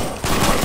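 Rapid gunfire in a video game bursts out after a brief quieter moment, sustained and dense at close range with no talking over it.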